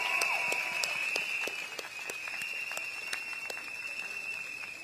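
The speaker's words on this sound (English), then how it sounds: "Shall we give them a big round of applause?" Audience applause for the hand-signal translators at a People's Action Party election rally for GE2025, steady dense clapping sustained throughout with a faint tonal hum running underneath.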